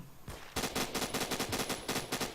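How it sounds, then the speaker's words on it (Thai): Rapid automatic gunfire in the Roblox shooter Phantom Forces, a burst of about a dozen tightly spaced shots after a single opening report, loud and close with no talk. "มาถึงเจอตัวก็กดกดกดกดยิงรัวหกนัดยังไงก็ตายนะฮะ"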